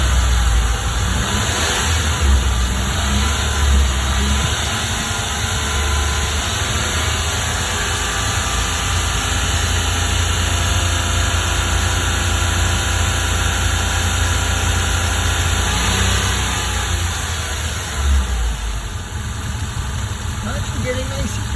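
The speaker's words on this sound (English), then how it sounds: "Bring the revs up a little bit." A Daihatsu HiJet with a coolant air lock runs steadily, the engine held at raised revs in a loud, continuous drone with only slight rises and dips throughout.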